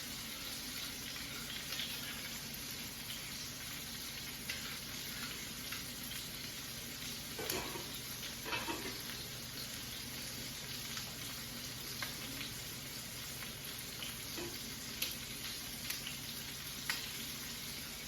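Potatoes fry in a pan with a soft, steady sizzle and faint intermittent crackles and taps throughout, quiet and continuous with no voices.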